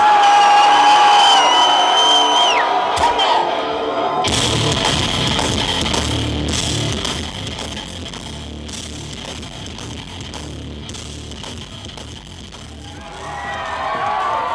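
A large crowd cheers and whoops loudly, a dense roar that dips somewhat midway and swells again at the end, with a voice shouting briefly early on.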